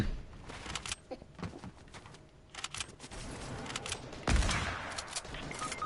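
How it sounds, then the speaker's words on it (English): Infantry rifle gunfire in a Fortnite-style video game, with rapid cracking bursts and scattered shots that build to a louder volley near the end, close and busy. "Oh, right, the infantry rifle that was right there."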